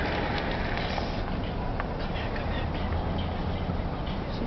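Ducks quacking and calling steadily at close range while being fed bread, a busy, continuous flock chatter with no speech over it.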